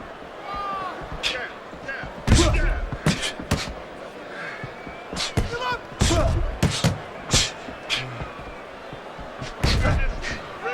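Heavy punches thud repeatedly in a heavyweight boxing bout, a series of sharp impacts of varying strength heard under a commentator's continuous talk and crowd noise.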